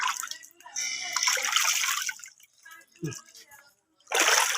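Red potassium permanganate solution is poured and splashed as a disinfectant in a cattle shed, in bursts of close, loud water with pauses, while people talk nearby.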